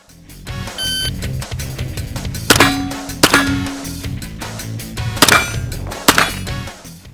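Gunshots striking steel targets at a shooting competition, comparing a Hatsan Bull Tac shotgun with a Grand Power Stribog carbine, several sharp loud cracks with ringing metallic clangs spaced over a few seconds, alone without talk.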